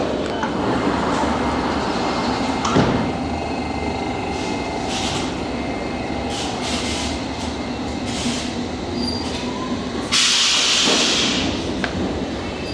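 A loud London Underground train rumbling steadily along the tracks, with a sharp hiss of air brakes near the end and no voices.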